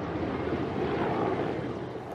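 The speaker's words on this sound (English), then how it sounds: "helicopter gunships flew overhead." Helicopter gunships pass overhead near a village with a Russian base, a dense, continuous rotor and engine rumble, loud and steady throughout.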